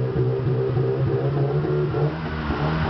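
Volkswagen Golf with a valved exhaust, its engine given light throttle blips in Istanbul; a steady mid-low engine drone with mild rises in revs, close and loud, no talk.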